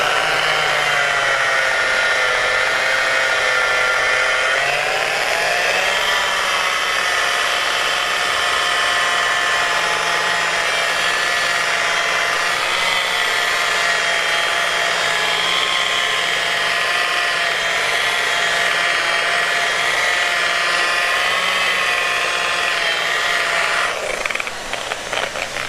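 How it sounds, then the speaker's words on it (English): A power buffer works car paint to correct orange peel, a loud, steady whine running without a break and shifting slightly in pitch as the pad moves across the panel. "So I'm going to go ahead now and start buffing"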